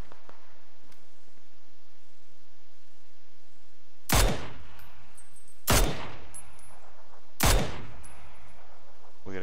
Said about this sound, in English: now we're getting shot at from 250